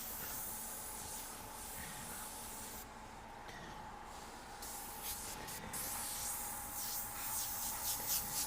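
An airbrush sprays paint in a steady, close hiss that runs continuously with brief dips and short bursts.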